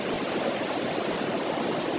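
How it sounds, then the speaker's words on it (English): A waterfall pours with a continuous, even roar of falling water, close and steady throughout, with no speech. "my favourite waterfall that we've seen over the last few days."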